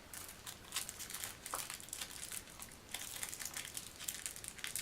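Plastic packaging crinkles and crackles while a Monster Lands board game is unboxed, a close, busy run of dry rustles and small snaps with no talk.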